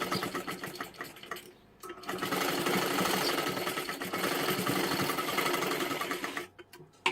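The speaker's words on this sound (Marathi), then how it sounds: "आता ह्याच्यावरती आपल्याला डबल शिलाई मारून घ्यायची आहे अजून एकदा" A sewing machine runs a double line of stitching along a puffed sleeve, a steady close whir that pauses briefly near the start and again near the end.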